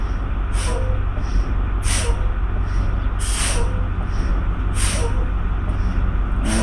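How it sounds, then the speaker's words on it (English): Truck air brake system releasing and draining pressure during an air brake test, with a steady loud hiss and repeated sharp bursts of escaping air at regular intervals. "I'm going to release my parking brake and I'm going to drop the pressure to 90 psi"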